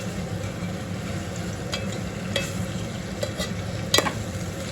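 Eggplant fry being stirred in a pan: a steady sizzle of frying runs throughout, broken by a few sharp scraping clinks of the spoon against the pan, close and fairly quiet with no talk.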